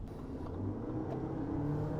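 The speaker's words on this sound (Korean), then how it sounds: "뒤에서 후륜 모터가 쫙 들어오면서 앞에서 터보음까지 그냥 정말 상당한 펀치력을 보여줘요" Lexus LM 500h with a 2.4-litre turbo hybrid and six-speed automatic accelerating on a winding road, a steady interior engine and motor drone with low rumble and faint turbo whir, no talk.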